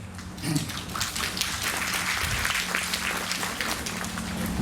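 An audience claps at a child-rights and POCSO law awareness seminar, a dense, sustained burst of applause that holds steady and fairly loud for several seconds with no clear talk over it.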